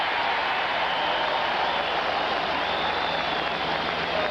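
A stadium crowd at a 1986 NFL game between the Atlanta Falcons and New England Patriots sends up a steady, broad roar of cheering and clapping after an open-field tackle, with no break.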